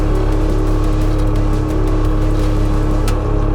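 A Bobcat stump grinder attachment running on a machine, a loud, steady engine drone with a constant low hum and whine, close and uninterrupted, with no talking.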